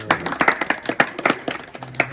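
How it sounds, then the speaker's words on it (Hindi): An audience claps at a village debate show in Rajasthan, India, a brief burst of scattered, uneven hand claps rising and fading over a couple of seconds, fairly close. "जोरदार एक बार तालियां हो जाए।"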